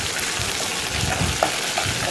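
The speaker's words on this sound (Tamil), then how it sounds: "இப்போ அது கூட 2 பச்சை மிளகா, ஒரு துண்டு இஞ்சி, கொஞ்சமாக கருவேப்பிலை போட்டு நல்லா வதக்கி விடுங்க" Green chillies, ginger and curry leaves sautéing with dal in a hot pan for lemon rice produce a loud, dense, continuous frying hiss, close up, with a couple of faint stirring taps and no speech.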